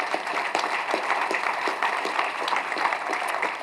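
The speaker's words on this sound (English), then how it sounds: "let's have a big round of applause, please, for all of our special department recognition awards" Audience at a fire and lifeguard appreciation awards dinner applauds steadily, a dense, even wash of many hands clapping throughout.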